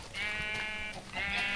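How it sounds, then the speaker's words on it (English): A Minecraft sheep bleats in a couple of wavering, nasal calls, loud and close with no talk over them. "Oh, sheep. Kill a sheep. Get their wool."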